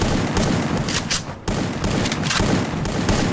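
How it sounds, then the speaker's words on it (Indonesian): Rapid gunfire bursts from a mobile battle game match, dense crackling shots layered with sharp cracks and a brief dip near the middle, steady and loud. "Nampaknya Tat juga sudah mulai memberikan tembakan dari jarak cukup jauh."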